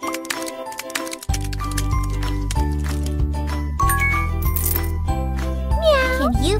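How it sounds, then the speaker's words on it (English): In a children's video game, a cartoon kitten gives a short, bright meow near the end while it is being fed, over bouncy game music with tinkling chimes and clicks. "Let's feed Kiki!"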